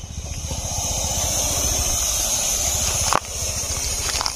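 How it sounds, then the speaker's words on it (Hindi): An aggressive, very large Indian rock python hisses in one continuous, loud, breathy hiss, broken by a brief crackle near the end. "वो अपने गर्दन से गुर गुर गुर गुर ऐसा आवाज कर रहा है"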